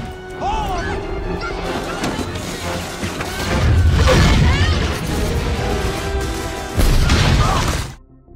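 Explosion in a zombie film, heavy crashing booms and debris with low rumbling mixed among music and effects, two loud bursts before an abrupt cut.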